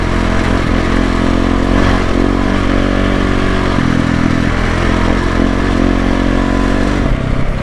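A new motorcycle's engine drones loud and close on a dirt road, revving up and easing off as it rides, with rattling clatter from rough ground underneath.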